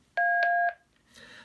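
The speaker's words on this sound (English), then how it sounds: "that's a beep on a door station" An Aiphone IX-MV7 intercom door station emits a short, loud two-tone test beep lasting about half a second, followed by a faint, brief electronic echo.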